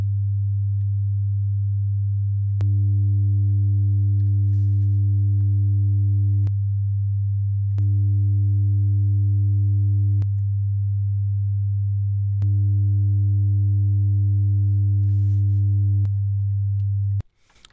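A steady low sine test tone plays alone, then three times switches to a buzzier version as a harmonic distortion saturation plugin adds a stack of overtones, each pass lasting a few seconds.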